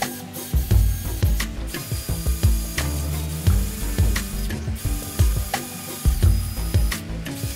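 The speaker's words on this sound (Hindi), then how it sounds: "एक तरफ से टी नट लगाओ और दूसरी तरफ से बोल्ट डाल के उसे टाइट कर दो।" A ratchet tightens a bolt into a T-nut while a bed platform is fitted in a Mahindra Scorpio caravan conversion, giving repeated close, loud clicking bursts in a quick rhythm.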